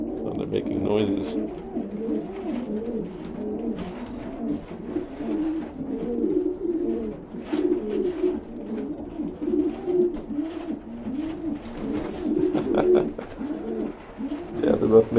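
Several pigeons coo repeatedly in a loft, their soft rolling calls overlapping in a steady rhythm close by, with people talking over them throughout.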